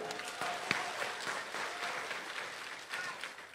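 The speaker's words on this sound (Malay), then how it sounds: "Berilah tepukan." Audience at a Malaysian political speech breaks into steady applause, a dense, even wash of clapping that holds for several seconds with a few voices mixed in.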